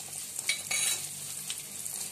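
Garlic frying in hot oil with mustard seeds, asafoetida and spices for a spicy puffed-rice snack, with a steady close sizzle and a few scraping stirs of a spoon in the pan, and no talking.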